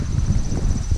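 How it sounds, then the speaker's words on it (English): Steady wind buffeting the microphone outdoors beside a lifted OBS Ford truck, a low rumbling roar that rises and falls in gusts throughout. "it's windy out here"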